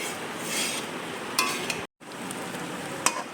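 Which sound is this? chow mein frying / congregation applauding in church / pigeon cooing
chow mein frying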